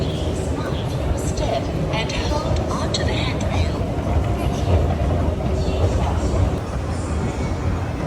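A train arrives at a Singapore station, rumbling steadily with a continuous mechanical roar, while people talk in the background throughout.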